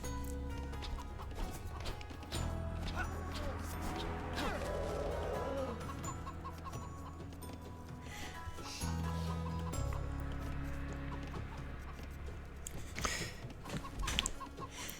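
Chickens cluck in a busy game soundscape, short bursts of fowl calls over a steady hum of background music and ambience.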